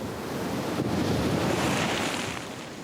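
Ocean waves surge and wash against the shore while steady wind buffets the microphone, a loud, continuous roar that swells in the middle and eases slightly toward the end.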